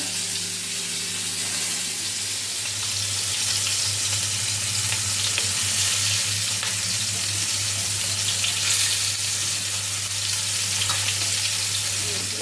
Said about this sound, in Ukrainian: Зараз обжариться.